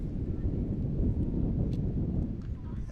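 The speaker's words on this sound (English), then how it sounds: "Very strong wind gust here." A strong wind gust buffets the microphone at an outdoor high school softball game, a continuous low roaring rumble that swells and eases for several seconds with no clear talk.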